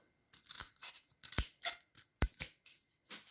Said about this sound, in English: So I'm using jumbo popsicle sticks. I'm just going to cut these